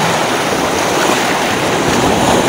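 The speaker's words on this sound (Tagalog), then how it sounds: "Malaki alon." Large ocean waves surge against a rocky shore at Ternate where anglers fish, a steady loud wash of surf with wind roar filling the whole stretch and no voices.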